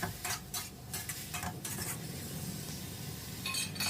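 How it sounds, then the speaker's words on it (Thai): Crispy pork and kale are stir-fried in a pan, with a close, continuous sizzle broken by bursts of spatula scraping and tossing, and no voices. "จากนั้นเราก็ผัดแค่แป๊บเดียวเท่านั้นนะครับ"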